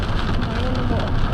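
Steady rain drumming on a car roof and windows, a dense, even patter filling the whole moment with no talking.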